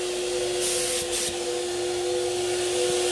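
Paint sprayer applying unthinned pink metallic paint over a tea rose base coat on furniture, a steady close hiss running throughout with two brief louder bursts near the start, alone without talk.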